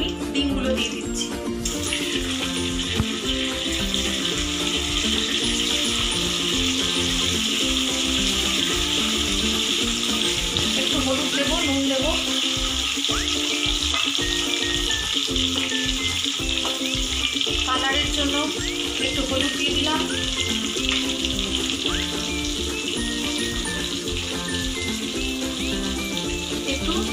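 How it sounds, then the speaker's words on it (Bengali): Eggs frying in the hot oil left after browning cauliflower for a Bengali egg curry, giving a steady, continuous sizzle with faint crackles throughout. "এবার এই তেলটার মধ্যেই আমি ডিমগুলো দিয়ে দিচ্ছি।"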